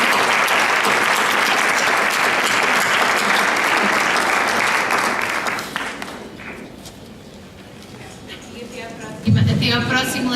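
An audience at a book launch on project work in early childhood education applauds a professor, loud dense clapping for about six seconds before it thins and fades, then a brief burst of voices and noise near the end.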